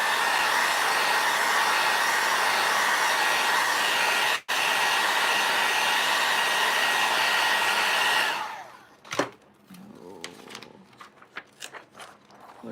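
A hair dryer blowing on Pentart crackle medium runs loud and steady for about eight seconds, briefly cut once, then switches off, leaving faint handling clicks and taps.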